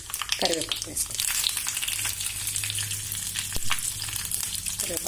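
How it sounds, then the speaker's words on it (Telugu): Curry leaves hitting hot oil in a tempering for mint tomato chutney, producing a loud, close, continuous sizzle with bursts of crackling over a few seconds. "దీనిలో కొంచెం కరివేపాకు వేసుకుందాం."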